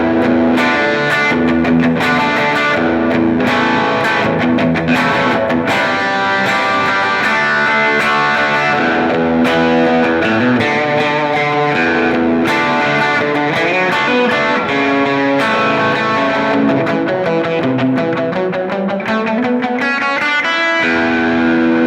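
Fender Thinline Telecaster Deluxe semi-hollow electric guitar played through heavy distortion, a loud, continuous run of saturated chords and riffs with no talking.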